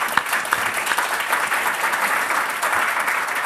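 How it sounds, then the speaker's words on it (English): An audience at a live higher-education policy event breaks into dense, steady applause, many hands clapping together indoors for a few seconds without pause. "So if we could give them a round of applause."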